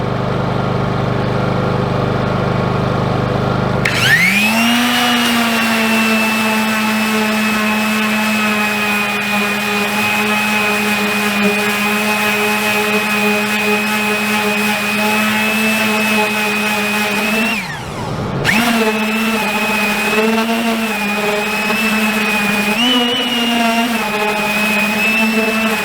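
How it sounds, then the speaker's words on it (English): A power sander strips decals from a school bus: a loud, steady motor whine starts after a few seconds, briefly drops out near the end, then resumes at full speed. "That's what I'm sanding"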